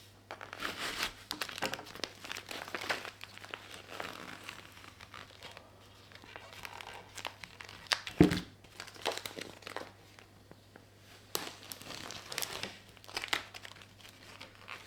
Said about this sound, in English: just take the tape off it and then we'll start scraping it down